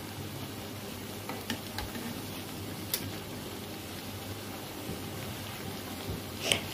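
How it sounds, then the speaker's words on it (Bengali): Bengali pitha cakes fry in a pan over medium-high heat, giving a quiet, steady sizzle with occasional ticks and pops and a few soft utensil clicks. "মিডিয়াম টু হাই দিয়ে এই পিঠাটাকে ভাজতে হবে।"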